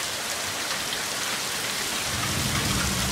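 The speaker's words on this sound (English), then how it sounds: "It's mostly just the heavy rain that's falling." Heavy rain pours down during a night thunderstorm in Hermiston, a dense, steady hiss of falling water that stays constant throughout with no voices.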